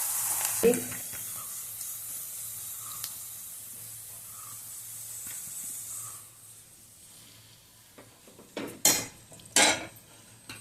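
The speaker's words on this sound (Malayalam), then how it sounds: "ഇതെടുക്കാൻ നിലക്കടല ഇടാം." Peanuts drop into a hot pan and get stirred while a chatpata flattened-rice snack is roasted. A faint sizzle runs under scattered metal scrapes, with sharper clinks of the spoon against the pan near the end.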